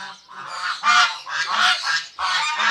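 Chinese ducklings, six young birds, give repeated loud honking calls in bursts, close by, with no speech.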